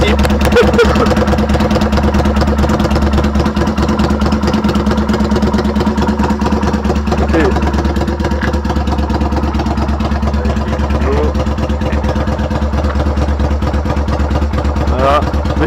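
A Yamaha Virago custom motorcycle rumbles at a steady idle, loud and close for the whole stretch, with a voice speaking over the engine.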